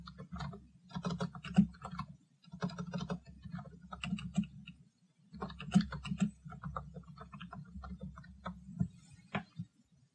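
Steady bursts of typing on a computer keyboard, quick light key clicks in irregular runs with brief pauses, recorded close and fairly quiet with no talking.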